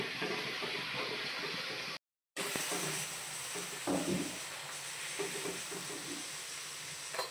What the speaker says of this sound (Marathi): भटुरा खालच्या साईडने तळून झाला आहे.